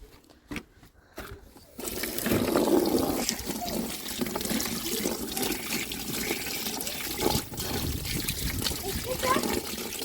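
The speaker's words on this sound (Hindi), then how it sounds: "हम इसको पानी से धोएंगे।" Freshly dug home-garden potatoes being washed: a few soft knocks, then a continuous rush and splash of running water that lasts to the end, with people talking over it.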